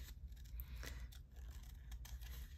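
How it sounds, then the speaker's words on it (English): Scissors fussy cutting around a paper bunny shape, quiet close snipping and scraping in a steady series of short cuts with no talking. "we're just gonna quickly fussy cut him."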